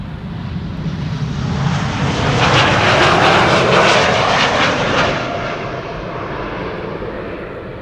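A jet airliner departs on the Polderbaan runway at Schiphol Airport. Heard from close beside the runway, its loud engine roar swells to a peak and then holds steady as it passes.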